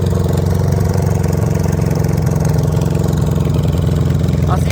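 A Goldwing GL1000 cafe racer motorcycle engine, cold and backfiring, runs at a steady, rumbling idle, close by and continuous throughout.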